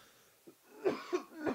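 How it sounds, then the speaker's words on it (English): A man gives a quick series of three or four hoarse coughs, close to the microphone, the later ones louder, with near silence between them. "Shows I got a cough here."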